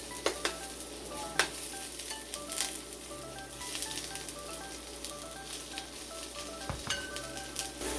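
Red onion frying in hot oil as the base for fried sardines with eggs, giving a steady, close sizzle with occasional stirring scrapes and light clinks of a utensil against the pan.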